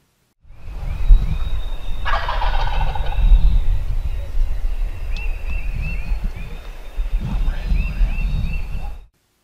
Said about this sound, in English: we hear one gobble, and he's right there on top of us